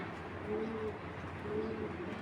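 A tournament racing pigeon of a 61-kilo generation line coos twice in soft low bursts, close by, over a steady background murmur.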